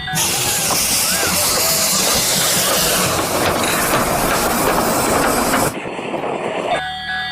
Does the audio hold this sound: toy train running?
yes